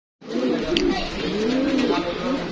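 Pigeons cooing at a pigeon farm, soft rolling coos rising and falling close by, overlapping with someone talking.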